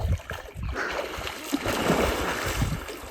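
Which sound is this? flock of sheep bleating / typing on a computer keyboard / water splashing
water splashing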